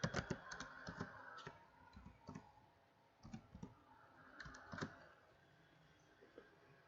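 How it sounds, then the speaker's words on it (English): Typing on a computer keyboard into a blank document, quick irregular clusters of light key clicks close up with short pauses between bursts, fairly quiet and without talk. "Simply I am typing"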